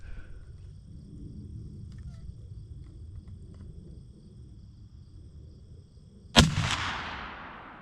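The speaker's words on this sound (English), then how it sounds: "I'm going to try another shot here." One loud, sharp rifle shot rings out near the end during sighting in for hunting with a peep sight at 100 yards, followed by a long echoing tail over a quiet outdoor background rumble.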